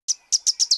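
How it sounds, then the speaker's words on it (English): A sunbird gives five sharp, high chirps in quick succession, close and clear with short gaps between calls. "sunbird"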